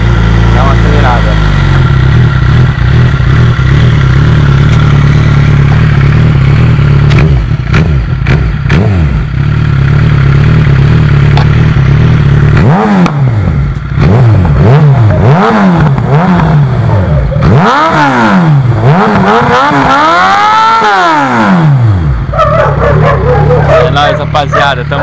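A Suzuki SRAD 750 motorcycle idles with a loud, steady low rumble close by, and later a dog barks repeatedly over the running engine.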